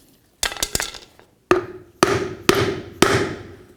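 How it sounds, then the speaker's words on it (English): Several sharp hammer blows strike a flat wood block laid over a rear wheel seal on a Ford Super Duty F-250, a quick cluster of taps followed by four heavier, evenly spaced whacks that ring briefly. "I'm going to use a flat piece of wood over it and then I'm going to hammer this down."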